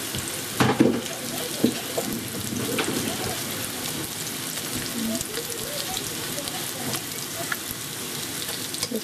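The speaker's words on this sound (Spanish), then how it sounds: "Ahora estoy esperando que se frían de este lado." Tortillas fry in hot oil for chilaquiles, a dense, continuous crackling sizzle close by, with a couple of louder clattering bumps near the start.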